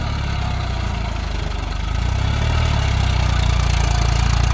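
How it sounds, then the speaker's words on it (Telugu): A farm tractor engine idles steadily in the field, a loud, close, low rumbling drone with a constant chugging pulse that grows slightly stronger partway through, with no talking. "చూడండి ఫ్రెండ్స్ ఏ విధంగా ఉంటుంది ట్రాక్టర్ అయితే"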